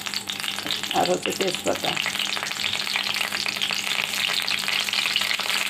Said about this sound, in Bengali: আমি কড়াইতে পরিমাণ মতো তেল আর গরম মশলা দিয়ে দিয়েছি